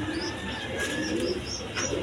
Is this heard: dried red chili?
no